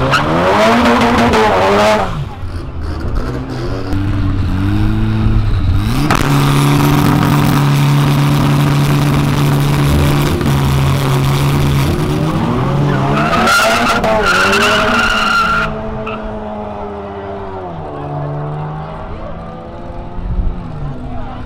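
A 400 hp Volkswagen Golf GTI revving hard and skidding, loud engine roar rising and falling with long screeching tire squeals, close by, with people talking over it and the noise fading near the end.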